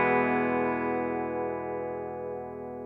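An electric guitar chord rings through a Dumble-style clone amplifier with the presence control turned fully up, a single sustained distorted tone slowly decaying on its own.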